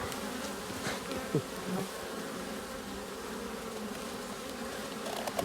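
A dense, steady buzz of many honeybees at a hive fills the air continuously, with occasional louder passes of individual bees close by.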